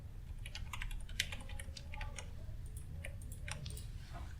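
Computer keyboard typing in quick, uneven bursts of close, faint key clicks, with no voice.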